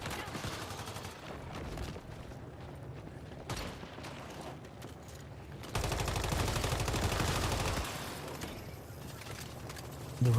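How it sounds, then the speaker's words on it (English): A gun in the Once Human survival shooter fires in repeated bursts, with a louder sustained stretch of rapid shots midway and quieter firing around it, all close and dense. "It feels so good to shoot this gun."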